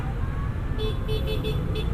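Indonesian street traffic at a red light with a noisy angkot minibus nearby, its engine rumbling close and loud while a car horn toots several quick times in the background.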